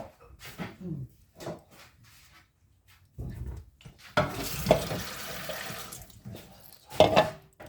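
Warm water is poured from a cup for pizza dough, heard as a few short splashes and then a longer, louder steady pour near the end.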